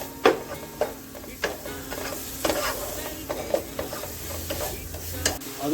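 Grated carrot for a palm-candy carrot halwa is stirred and fried in a pan, with a low sizzle broken by repeated sharp scrapes and taps of the spatula at an irregular pace.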